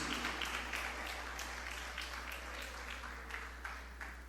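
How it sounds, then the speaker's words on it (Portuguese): A church congregation applauds during an evening Bible school service, a dense continuous patter of many hands clapping at steady volume, with a low constant hum underneath. "aplaude a palavra de Deus com muita alegria"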